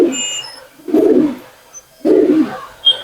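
Domestic pigeons in a Kolkata loft give low throaty coos in two or three soft bursts separated by short pauses, close by, with faint higher chirps in the background and no talking.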